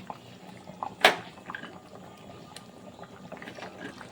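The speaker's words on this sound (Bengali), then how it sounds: "এখন ফুটতেও শুরু করেছে আর সব কিছু কিন্তু প্রায় সেদ্ধ হয়ে গেছে" A pot of tangra fish and cauliflower curry bubbling at a low simmer, a soft continuous burble with one louder splash or bubble burst near the start, no voices.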